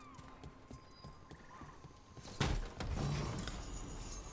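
Horse hooves clip-clop and a horse neighs in the video game Dragon Age: The Veilguard, fairly loud after a quieter stretch of low ambient sound, with no voices.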